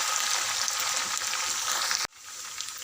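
Green chillies sizzle and crackle steadily in hot oil for a tempering, a close, bright hiss that dips suddenly near the end before resuming more quietly.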